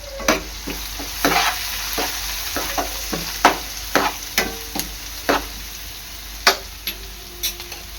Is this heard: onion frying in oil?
yes